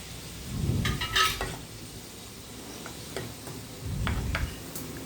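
Dry spices are stirred into a simmering black chickpea curry, low, scraping swirls of a spoon in the pot in two bursts, with light ticking clicks and a soft bubbling background.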